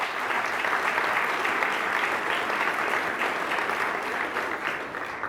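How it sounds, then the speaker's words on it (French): A large audience at an evening gala applauds sponsors in a continuous, even wash of clapping that stays loud throughout the hall, with no talking over it. "applaudissons nos partenaires de la catégorie diamant"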